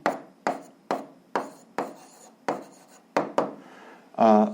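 A pen writes an answer on paper in short, distinct scratching strokes, about nine close quick scribbles in an irregular rhythm, quiet and without talk, ending in a brief louder rustle.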